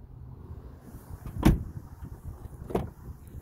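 Door of a 2011 Toyota Tacoma pickup with TRD off-road package opened outdoors, a sharp latch clunk followed by a softer thump a second later, over light ambient noise and no talking.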